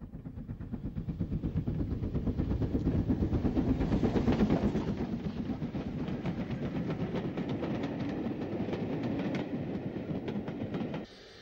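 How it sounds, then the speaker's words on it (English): GNR VS Class 440 steam locomotive, renumbered 58 by the Ulster Transport Authority, passing Fairview near the end of a run from Belfast; a steady rumbling train with rhythmic wheel clatter swells as it nears, then cuts off abruptly. "GNR VS Class 440 Lagan, renumbered 58 by the Ulster Transport Authority, who got this loco when the assets of the GNR were divided up in 1958"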